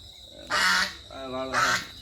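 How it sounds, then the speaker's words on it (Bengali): Domestic ducks in a rural village give two loud nasal honking quacks, close by, about a second apart, with low background murmur between them. "এটা মা হাঁস ডাকতেছে হ্যাঁ রাজা হাঁস ই করতেছে"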